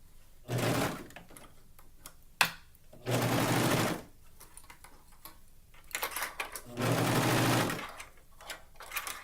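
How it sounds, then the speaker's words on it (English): A serger stitches elastic onto swim fabric in several short, fast-whirring runs separated by quiet pauses, close and clear with no voices. "I'm going to do it with my serger."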